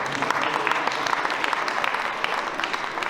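Crowd applause at a French awards and prize-giving ceremony, a dense, continuous patter of many hands clapping at moderate loudness throughout.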